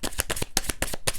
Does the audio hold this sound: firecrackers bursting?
no